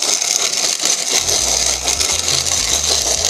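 Hand-cranked wheat grinder milling hard white wheat, a steady loud rasping grind with rhythmic low thumps from the turning crank, no voices.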